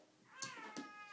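A cat gives a single faint, drawn-out meow close by in a quiet room.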